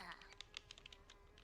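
A Sims 4 character types on a computer keyboard in the video game, with quick light clicky keystrokes in an irregular rhythm under soft background music.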